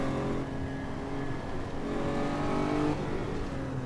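A race car engine in Need for Speed 3 Hot Pursuit Remastered, driven on the Hometown track, holds a steady, loud tone that shifts pitch slightly partway through, with no talk over it.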